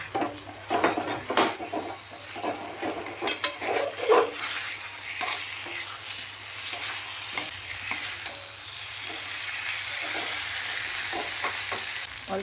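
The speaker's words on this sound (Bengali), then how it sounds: "ভেজে রাখা এঁচড়গুলো দিয়ে দেবো, দিয়ে মশলার সঙ্গে ভালো করে কষিয়ে নেব।" Fried jackfruit pieces are stir-fried with spice masala in oil, with a spoon scraping and clattering against the pan in irregular bursts over a constant sizzle that grows steadier toward the end.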